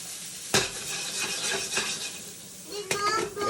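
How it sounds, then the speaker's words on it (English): Green beans being stirred in a frying pan beside pork chops, giving scraping utensil strokes and clinks against the pan over a steady light sizzle, with a sharp knock near the start and another near the end. "with your green beans, you just wanna give them a good little stir"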